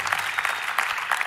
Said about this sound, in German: Lass dem Tim einen Applaus geben, Tim.